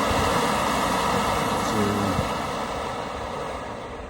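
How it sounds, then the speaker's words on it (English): A gas camping stove burns on full gas, giving a steady, close, broadband roaring hiss that holds even and fades slightly toward the end. "you can certainly be able to hear the flame"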